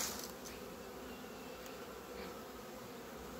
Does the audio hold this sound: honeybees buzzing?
yes